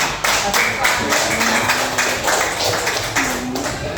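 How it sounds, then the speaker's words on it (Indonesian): A grade 3 classroom claps for student group 3 as they come forward, a brisk, uneven patter of small hands close by, with a few voices mixed in. "kasih tepuk tangan"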